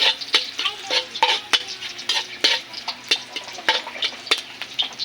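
Ginger frying in a pan for ginataang dahon sang balanghoy, with loud, close sizzling broken by a rapid series of sharp stirring clicks and scrapes against the pan.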